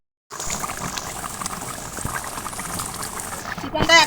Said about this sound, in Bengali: চিকেনটা একদম পুরো টকবক করে ফুটছে